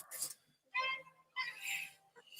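A few drawn-out meows in succession, fairly close and soft, with short pauses between each call.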